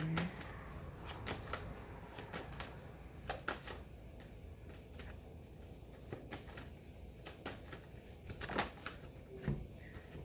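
Tarot cards shuffled by hand in repeated riffling bursts, a steady papery flutter with sharp slaps, fairly close and continuing throughout without talk.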